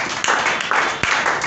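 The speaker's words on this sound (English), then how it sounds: "Can we clap for the Lord?" A church congregation claps for the Lord, a loud, full burst of many hands with a few stronger pulses rising out of the steady wash.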